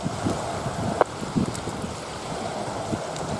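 Steady wind rushes and buffets outdoors, with a single sharp knock partway through and no voices.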